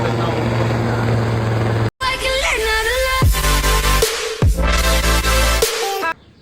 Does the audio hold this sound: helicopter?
yes